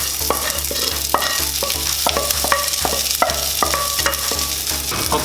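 Onion and garlic fry in a pan for a chicken and vegetable dish, with a steady sizzle broken by repeated rhythmic scrapes and clinks of a utensil stirring against the pan, close and loud with no voices.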